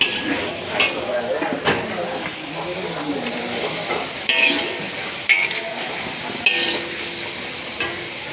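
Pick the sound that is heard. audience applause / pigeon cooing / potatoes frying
potatoes frying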